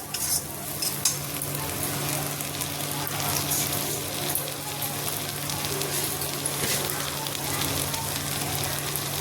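Boiled masoor dal with a little sugar fries in a kadai while a spatula stirs and scrapes it, giving a soft continuous sizzle with irregular scraping clicks, close up and moderately quiet.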